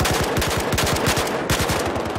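Rapid automatic weapon fire from Battlefield 4 rattles in a steady close burst, one sustained stream of shots with a brief break midway, loud and alone without talk.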